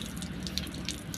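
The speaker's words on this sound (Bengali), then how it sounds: "দেখলে এবার আমি মুখ ধুবো" Water runs from a tap into a sink while a face is washed, a short, faint, steady flow with light splashes and drips.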